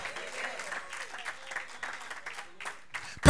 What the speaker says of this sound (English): Clap your hands right there and just give God some praise.